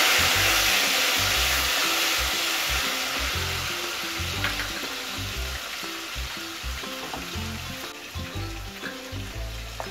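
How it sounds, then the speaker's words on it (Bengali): Tomatoes fry in hot oil seasoned with garam masala, a loud, steady, close sizzle that slowly eases, with a few low knocks of stirring underneath. "টমেটোগুলো একটু ভেজে নেব।"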